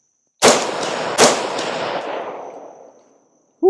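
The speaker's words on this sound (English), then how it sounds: "Let's put more rounds through here" Two sharp, loud shots from a Ruger SFAR 16-inch semi-automatic rifle in .308 Win, roughly a second apart, each with a long echoing tail that fades over a couple of seconds outdoors.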